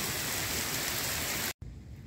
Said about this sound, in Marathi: आणि आत्ता खरं फार जोरदार पाऊस आहे